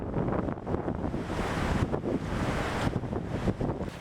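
Strong, blustery wind buffets the microphone outdoors on a trail, a loud continuous rumbling roar with gusty surges and no voices.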